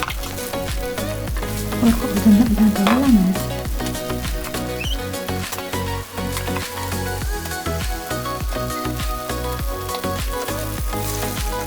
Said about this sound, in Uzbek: yog'imizga solib qovurib olamiz